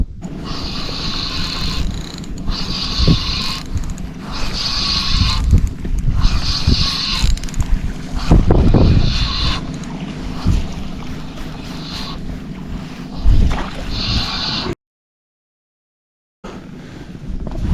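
Strong wind blows steadily across water near the shore on a fishing trip, with gusty rumbling buffeting the microphone and no talk.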